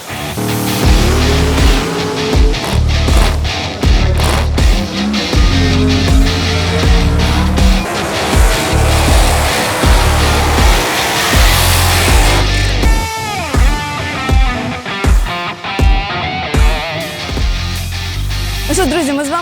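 Drag racing car at NitrOlympX, Hockenheimring, doing a loud tire warm-up burnout, with a sustained engine roar and screeching tire squeal throughout, sharp rhythmic bursts of revving and heavy low rumble, close and dominant.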